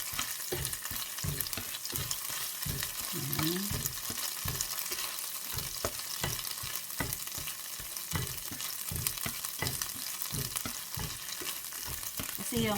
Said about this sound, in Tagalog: kailangan mabango yung alamang natin yung pagkakaprito para hindi siya malansang kainin.